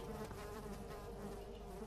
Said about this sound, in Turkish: Oğlum sinek dolaşıyor peşimde.